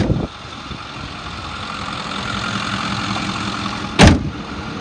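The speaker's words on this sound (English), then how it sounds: "The motor sounds good, it revs up nice." A 2010 Ford F-550 XL utility truck with a 6.4L diesel engine running with a steady, loud rumble throughout, a brief louder thump near the end.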